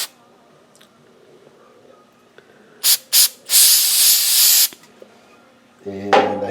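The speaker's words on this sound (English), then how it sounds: "I shot some brake clean on it" Brake cleaner sprays from an aerosol can onto the grille of a burnt 1955 Buick: two short hissing bursts, then a longer steady blast of about a second and a half, up close, with a brief voice after it.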